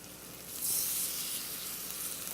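Pork loin pieces searing in a hot pan give a steady, close sizzle that swells after half a second and holds strong to the end, with no voices.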